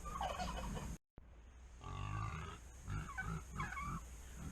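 Two hens and a rooster give short clucking and throaty gobble-like calls in a coop, several close bursts following a brief dropout near the start.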